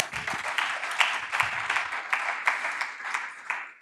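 An audience at a Python programming conference talk applauds, a steady patter of many hands clapping at a moderate distance, with a few sharper claps rising above the rest.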